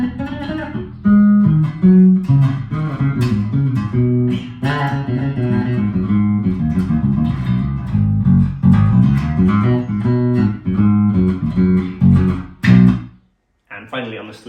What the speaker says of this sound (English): In this middle position, we've got the P-bass type sound.